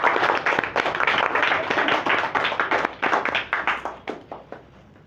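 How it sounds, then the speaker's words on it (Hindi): At a yoga championship ceremony, the crowd claps loudly and briskly in honour of a guest, the applause thinning into scattered, fading claps toward the end. "अस्थाना जी के लिए सभी जोरदार ताली बजाएंगे।"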